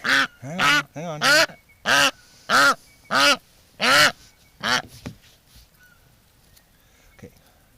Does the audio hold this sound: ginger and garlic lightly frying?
no